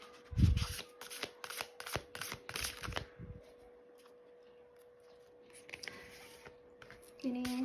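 Oracle cards being shuffled by hand in a tarot reading, a run of crisp riffling bursts and soft slaps that thin out into quieter handling, ending with a brief tonal sound.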